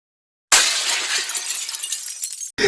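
Glass smashes loudly and suddenly, a bright shattering burst followed by about two seconds of tinkling, scattering shards before a second crash begins at the end.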